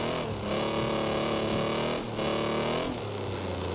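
Race car engine in the video game Wreckfest 2, a loud, steady distorted drone with pitch shifts as the car revs and shifts gears, running continuously without talk.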